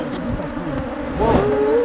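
Aggressive bees buzz close by at a hive in Kitale, Kenya, a dense, loud drone with a rising whine as one flies near.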